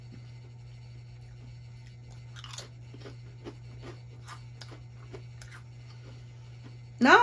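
Crunchy seasoned snack chips being chewed up close, a series of short crisp crunches spread through the moment over a steady low hum, with a louder burst right at the end.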